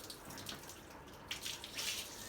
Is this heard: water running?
yes